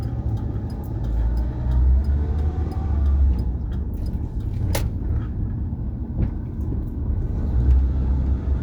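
Low, steady road-traffic rumble from inside a truck cab, with engine drone and passing vehicles throughout, one brief sharp click midway, no talking.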